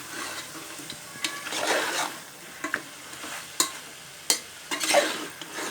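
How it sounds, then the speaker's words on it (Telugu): A spoon stirs a spicy mutton gravy curry after coriander is added, making repeated wet scraping swishes and occasional clinks against the pot over a soft simmering sizzle, with no talk. "కొత్తిమీర వేసి దాన్ని ఇంకా బాగా కలుపుకోవాలి."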